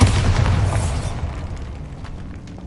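A Bombarda spell blast in Hogwarts Legacy on PS5: a single loud, close explosion with a heavy boom that decays into a rumbling tail over a few seconds, no voices.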